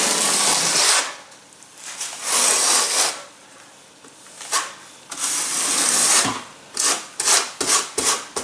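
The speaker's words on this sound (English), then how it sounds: "So for this application, I'm using the 1/4 inch notch trowel." A 1/4 inch notch trowel spreads mortar across half-inch hardi-board, heard as long, close, gritty scraping strokes at a steady pace, giving way near the end to a quick run of short, rhythmic swipes.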